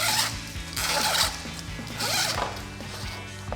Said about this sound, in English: We're just going to simply start all the wires, feed them through, and then pull all the slack through.